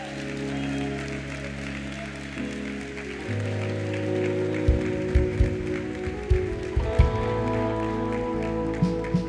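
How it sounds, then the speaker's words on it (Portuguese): A church congregation applauds with soft, scattered clapping beneath sustained keyboard chords and deep bass music, with occasional heavier thumps standing out. "Pode aplaudir a Jesus."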